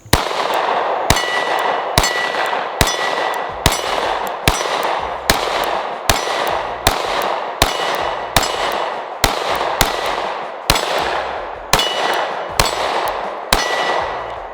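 Sig P365 Macro pistol firing, about twenty sharp shots at a slow, fairly even pace with ringing echo between them, loud and close.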